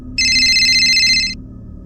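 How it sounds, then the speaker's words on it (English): A phone ringing: a single electronic trill of rapid, high repeated tones lasting about a second, loud and close over a low background hum. "Then my phone rang."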